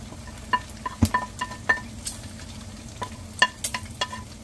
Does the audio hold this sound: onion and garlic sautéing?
yes